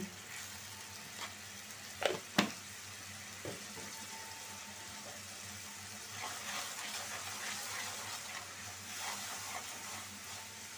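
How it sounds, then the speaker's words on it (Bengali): Ground spices, red chili powder, coriander powder and salt, fry in a pan with a soft, continuous sizzle. A couple of sharp utensil clicks sound early on, and the frying swells slightly later. "মশলাটা কষানো হোক।"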